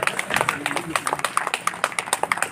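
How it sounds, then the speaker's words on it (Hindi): At a Christian hymn welcome program, an audience claps in a quick, steady rhythm of sharp, closely spaced claps, with a voice speaking over them. "ताली बजता रहे, ताली बजता रहे,"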